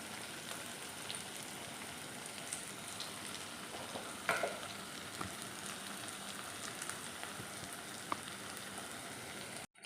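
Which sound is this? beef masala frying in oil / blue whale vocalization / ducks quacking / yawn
beef masala frying in oil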